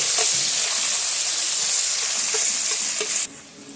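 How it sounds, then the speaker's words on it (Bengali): Chopped onions frying in hot oil in a pan while being stirred, a steady loud sizzle with faint scraping stirs, close up and without talk, easing slightly at the end. "পেঁয়াজটা আমি তেলের মধ্যে দিয়ে সুন্দর করে পেঁয়াজটা নেড়ে চেড়ে ভেজে নেব একটু।"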